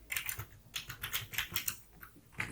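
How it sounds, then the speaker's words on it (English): Rapid typing on a computer keyboard while entering web page text, a quick irregular patter of light key clicks in bursts with brief pauses, close and fairly quiet. "So I'll go ahead and type that in."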